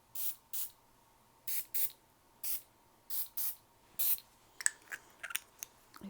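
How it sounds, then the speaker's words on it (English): Rose water and ivy aerosol room spray, released in a series of short, crisp hissing bursts, some single and some in quick pairs, close and alone against near silence. "it is a aerosol spray."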